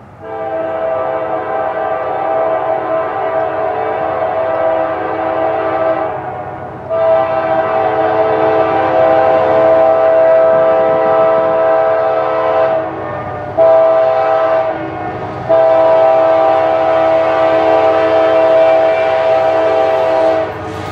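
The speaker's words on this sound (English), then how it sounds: "K5LAs are high-key difficult to describe because they can literally sound so weird and varied." A loud K5LA multi-tone train horn blares in long sustained blasts with brief gaps, close by and dominating over faint rail rumble.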